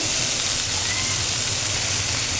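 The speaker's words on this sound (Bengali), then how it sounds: "মশলা যাতে পুড়ে না যায় এই কারণে একটু জল দিয়ে নিচ্ছে" Turmeric and chili powder frying in a pan after a splash of water, giving a steady, loud hiss of sizzle and steam that runs unbroken from start to finish with no voices.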